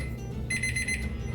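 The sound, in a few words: alarm going off while smoking brisket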